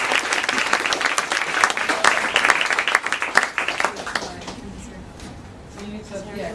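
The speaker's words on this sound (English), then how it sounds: "Please give Sarah a big round of applause." An audience at a film funding event gives a big round of applause, loud and dense clapping for a few seconds, then thinning out toward the end with a few scattered claps and some murmuring.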